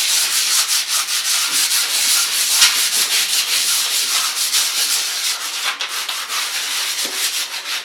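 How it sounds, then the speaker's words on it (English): Gentle hand sanding with P120 sandpaper while preparing a room for painting, a close, loud, rhythmic scratchy rubbing in quick repeated strokes with no talking. "P120 sandpaper. Nothing too harsh, unless there's any major blemishes in it. Just a gentle sand over."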